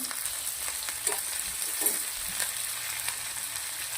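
Two onions frying in a pan for palak paneer butter masala, a quiet steady sizzle with a few soft stirring taps, close and alone without speech.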